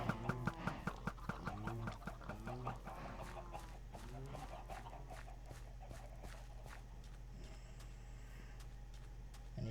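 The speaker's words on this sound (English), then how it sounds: "More chickens!" Chickens clucking in a video game, a quick run of rhythmic clucks and squawks near the start that thins out into a softer, steady background.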